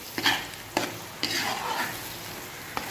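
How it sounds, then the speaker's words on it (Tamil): Fried prawns are stirred in spiced oil in a pan, with several sharp spoon scrapes against the metal over a steady sizzle, close and fairly quiet with no speech. "நல்லா கிளறி விட்டுக்கலாம்."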